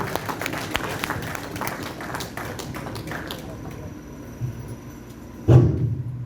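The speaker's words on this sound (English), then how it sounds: "Bring a more round of applause, man." An audience claps at a memorial ceremony honouring fallen heroes, a dense patter of hands through the first seconds that thins out. Talk and a sudden loud thump come near the end.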